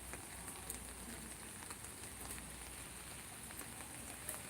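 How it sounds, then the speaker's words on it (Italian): Steady rain falls after a night-long downpour, a dense, even hiss of drops pattering on surfaces with occasional sharper splashes, faint and continuous without any voices. "sta piovendo veramente da stanotte. La pioggia non accenna a finire"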